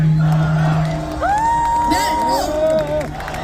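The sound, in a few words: audience applause and cheering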